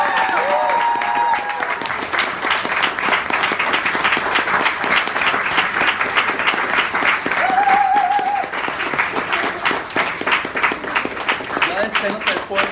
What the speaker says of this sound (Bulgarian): Моля вашите аплодисменти за Аси Иванова.